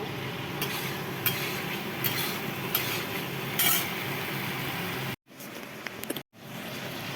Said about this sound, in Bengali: এই যে চিংড়ি মাছ ভাজা বসে দিচ্ছি